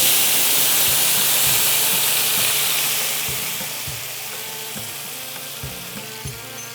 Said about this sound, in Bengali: এবার ডাল দিয়ে দিচ্ছি।